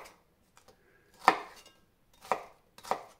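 A knife chops vegetables into large chunks on a cutting board: three sharp, close thwacks spaced about a second apart, with a few faint taps between them.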